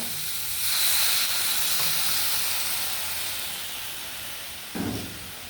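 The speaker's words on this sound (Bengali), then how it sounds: "একটু পানি দিয়ে দিলাম" Water is added to a frying vegetable curry of eggplant and plantain, and a broad hissing sizzle swells and then slowly fades, closing with a short clunk near the end.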